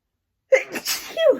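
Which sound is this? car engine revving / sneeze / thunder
sneeze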